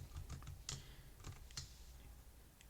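Keystrokes on a computer keyboard typing a short data-loading command: a quiet, uneven run of light clicks with short pauses between them, heard alone.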